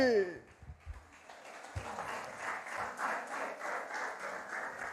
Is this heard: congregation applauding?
yes